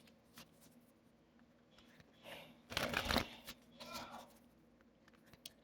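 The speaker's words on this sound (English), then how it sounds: "Pardon me while I shuffle these cards." Tarot cards are shuffled in a short, brisk burst of riffling and flicking, fairly close and quiet, with soft rustles before and after.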